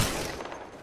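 A quick burst of gunfire from a PS4 shooter game, a dense, loud rattle of shots that fades slightly over under a second.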